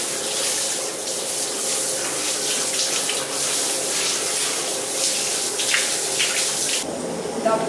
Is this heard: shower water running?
yes